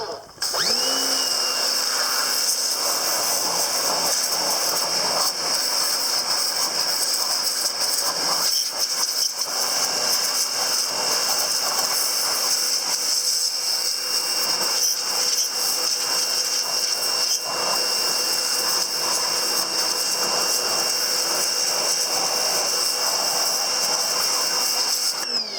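Portland pressure washer from Harbor Freight blasting a steady spray without soap, a loud continuous hissing roar running unbroken for the whole stretch.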